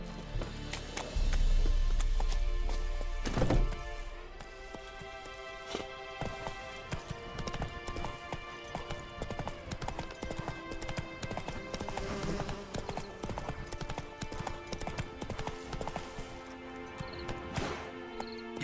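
Horse hooves clip-clop at a gallop in The Witcher 3: Wild Hunt, a steady rapid patter that runs through most of the clip after a brief louder thump near the start.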